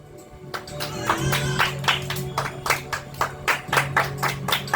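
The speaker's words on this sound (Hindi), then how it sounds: "इसके लिए जोरदार तालियां।" Audience claps after a ghazal recital at an evening ghazal concert, starting sparsely and building into steady, fairly loud applause with distinct, irregular hand claps.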